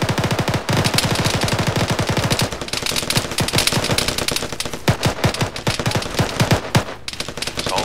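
Rapid bursts of automatic gunfire strike the player in Arma 3, dense loud volleys of sharp shots that rattle on for several seconds, then break into choppier, uneven fire.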